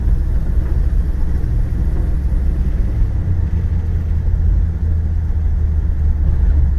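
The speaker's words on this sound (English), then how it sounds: "I do have the windows down, so you're gonna hear a little bit of wind." Steady low rumble of wind buffeting a moving 1976 Chevrolet Impala wagon through open windows, constant and fairly loud throughout, with engine hum underneath.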